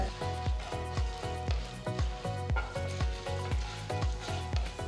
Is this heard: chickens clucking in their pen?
no